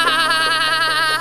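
A human voice imitates a sheep, producing one sustained, wavering bleat close to the listener that runs through the whole moment with a strong buzzy quiver.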